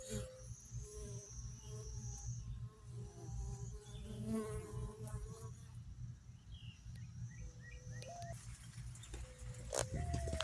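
Honey bees buzz steadily around a flowering plant outdoors, a dense close hum running throughout with scattered bird chirps and a few brief voices in the background.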